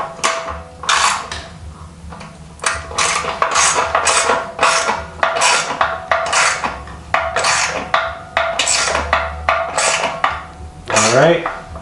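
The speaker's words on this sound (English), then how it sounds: "finish tightening this main mounting bolt on the muffler" A wrench works a main mounting bolt on an aftermarket Motobox Racing muffler fitted to an Aprilia RS660 or Tuono 660, giving a long run of sharp, regular metallic clicks and ratcheting, close and loud, with no talk.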